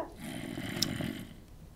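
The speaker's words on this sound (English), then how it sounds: "a zombie sound like my father when he was alive snoring" A Minecraft zombie lets out a low, rasping, snore-like groan, faint and drawn out over under two seconds.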